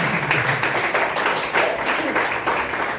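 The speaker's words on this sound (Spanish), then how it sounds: "démosle un fuerte aplauso a nuestro Dios" A church congregation claps together in a dense, steady burst of applause that carries on without a break for a few seconds, close and fairly loud.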